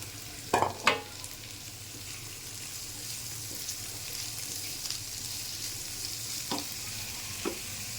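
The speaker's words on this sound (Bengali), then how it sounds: "ভাজা প্রায় হয়ে গেছে, এখন আমি আলু কুচি দিয়ে দিলাম।" Chopped potatoes fry with onion and garlic in a tablespoon of oil, giving a continuous low sizzle with a couple of clattering stirs early on and two more near the end, close by and without talk.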